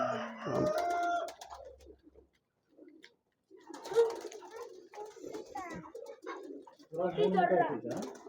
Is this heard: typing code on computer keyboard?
no